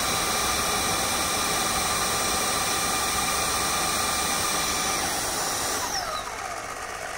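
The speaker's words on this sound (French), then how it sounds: "C'est qu'elle s'auto-nettoie toute seule au niveau de la brosse." A Tineco S5 wet-dry vacuum runs its brush self-cleaning cycle as a loud, steady whirring motor drone with rushing airflow, then winds down with a falling pitch and quieter tail at the end.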